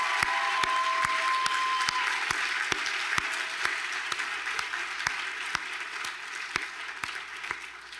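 Sustained applause from a graduation ceremony audience, dense steady clapping with a few sharp individual claps standing out, lasting the whole stretch at an even, fairly loud level.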